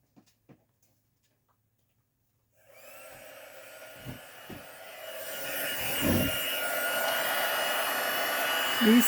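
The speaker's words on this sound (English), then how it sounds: "I'm wanting this to dry, so I'm going to use the heat gun." A heat gun drying a mixed media painting: after a few quiet taps and a pause, a loud, steady blowing whoosh starts and holds, with occasional bumps and knocks of handling beneath it.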